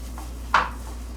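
A single crisp strike of a new solid steel chef knife chopping against a board, one short close knock in otherwise quiet surroundings.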